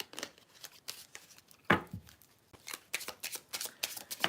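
Tarot cards being shuffled by hand at close range, a run of quick riffling and sliding bursts with short pauses, one sharper slap of the deck partway through, and no voices.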